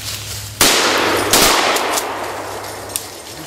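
A single loud shotgun blast fired while hunting woodcock in the field, a sharp crack with a second burst close behind it, both trailing off into a lingering outdoor rumble.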